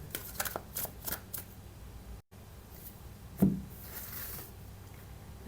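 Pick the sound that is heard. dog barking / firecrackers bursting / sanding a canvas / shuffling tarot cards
shuffling tarot cards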